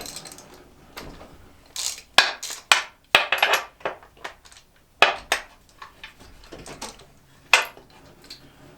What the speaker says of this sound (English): I'm going to quick grab a socket and pull these guys out. Okay, so basically all you gotta do is just break them free.